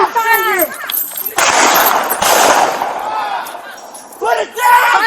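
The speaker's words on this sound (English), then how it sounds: "Shots fired." Police gunshots ring out in a street confrontation in East Harlem as a cluster of loud, sharp reports and echoing bangs, with officers shouting before and after the burst.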